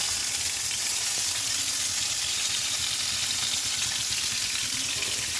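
Tomatoes fry in hot sunflower oil in a pan, giving a steady, even sizzle and crackle that holds at the same level throughout, with no talking.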